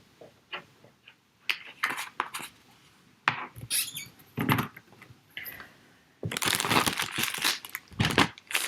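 An anti-static bag rubbed over card before die cutting gives close, dry crinkling and crackling in irregular bursts, with a longer, denser stretch of loud rustling near the end.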